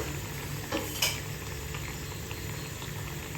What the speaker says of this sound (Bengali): এবারে আমি মাছগুলোকে একটু পাশ উল্টে দিচ্ছি